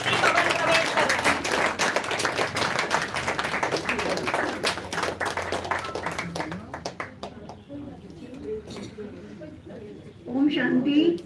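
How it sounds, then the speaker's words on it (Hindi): Audience applause at an annual day celebration in a hall: loud, steady crowd clapping for several seconds that thins out, then a voice speaks in the hall as the clapping fades. "जब तक परफॉर्मेंस स्टार्ट न हो तालियां बजती रहनी चाहिए।"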